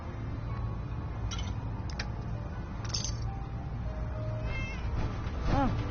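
A cat in Fallout 4 meows a few times over a low in-game ambient bed, with soft ticks and clicks scattered around the short mewing calls, fairly close and moderate in level.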